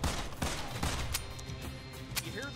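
An empty gun magazine clicking in the video game Immortal Redneck: sparse, sharp dry clicks spaced irregularly over a busy, steady game soundscape, with no voices.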